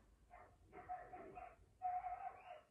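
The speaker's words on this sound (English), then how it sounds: "As I hear the screaming of dogs outside in this very moment" Dogs outside bark and yelp in a few muffled bursts, clustered tightly together and heard faintly from a distance, with no talking over them.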